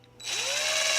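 A power drill driving screws into an Arrma Granite Grom RC truck spins up quickly to a steady high whir, close and fairly loud, lasting under a second.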